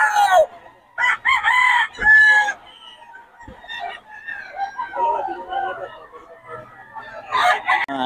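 Roosters crow repeatedly and chickens cluck close by at a poultry market in Bocaue, with several overlapping calls and a voice faintly in the background.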